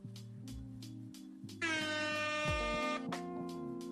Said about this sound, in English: You know, that gets like at least 3 air horns and an applause.